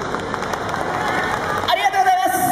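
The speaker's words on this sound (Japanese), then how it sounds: "温かい拍手ありがとうございます。" Warm audience applause and crowd noise at the Dream Yosakoi 2012 dance festival, a steady, dense wash of clapping lasting throughout, with an announcer's voice likely over it.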